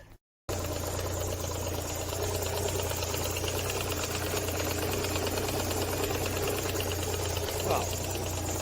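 A rusty Citroen BX engine cranks and tries to start, a steady, even mechanical churning that runs on without catching, with a faint rattle of vibration.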